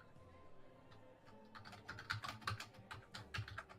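Quiet clicking of typing on a computer keyboard during a tabletop game session, a rapid uneven run of keystrokes that grows busier and louder toward the end, heard close in a calm room.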